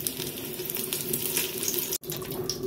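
Water gushes steadily into a cooking pot already holding ghee and crushed spices for rabbit biryani, with a faint sizzle and a brief break near the end; no one speaks.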